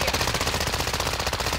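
Rapid automatic gunfire in the video game Warzone, a dense continuous burst of loud shots with a fast rhythmic rattle.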